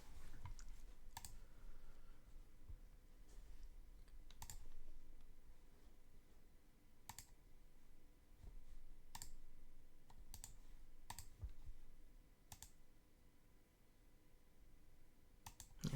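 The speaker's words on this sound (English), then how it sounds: "that is picking up my mouse clicks" Computer mouse clicks at a desk during a streaming session, sharp isolated clicks spaced irregularly every second or two over a faint room hiss, quiet and close, with no talking.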